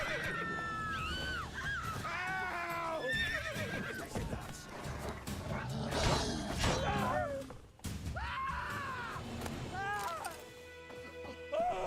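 Roach the horse in the video game The Witcher 3 whinnies repeatedly, with loud, shrill neighs sliding up and down over hoofbeats and clatter, some cries overlapping.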